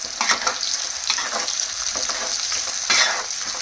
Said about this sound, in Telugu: కట్ చేసి పెట్టుకున్న ఆనియన్స్ వేసేసుకుంటున్నాను